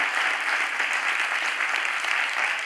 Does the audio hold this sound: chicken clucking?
no